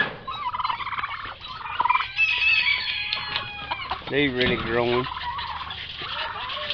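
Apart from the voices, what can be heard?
turkeys gobbling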